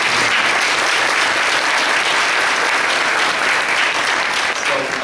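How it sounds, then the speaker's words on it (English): Loud, close applause from the crowd at a council meeting, a thick continuous roar of clapping hands that stays strong from start to finish. "give yourselves a round of applause for it"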